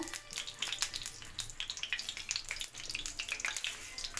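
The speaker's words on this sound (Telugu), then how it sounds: "బౌల్ వేడెక్కిన తర్వాత ఆయిల్ పోసుకోవాలి" Oil poured into a hot bowl crackles and spits in a busy, uneven sizzle, quiet but close, lasting a few seconds without talk.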